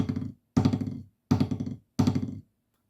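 Snare drum rolls played with sticks on a practice drum pad: four short bursts of rapid dull taps separated by brief pauses, close and fairly quiet, with no voices.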